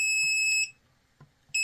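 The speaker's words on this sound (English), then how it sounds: "It's beeping because this is the internal resistance of the probe" A PeakTech P 1073 multimeter beeps a shrill electronic tone as its probes register their own internal resistance, with a longer beep, a short gap and a second beep starting.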